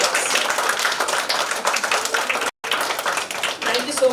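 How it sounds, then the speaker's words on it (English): Sustained applause from a crowd at a women's awards ceremony, dense clapping throughout with one brief cut near the middle. "So give them a bigger round of applause."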